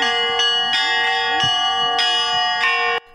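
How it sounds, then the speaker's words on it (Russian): Orthodox church bells ring in a close, loud peal during a religious procession greeting a miraculous icon, several strikes in an irregular rhythm over one another with a faint voice underneath, ending abruptly. "Прихожанка Вера Михайловна чудотворную святыню встречает по-своему – звоном колоколов."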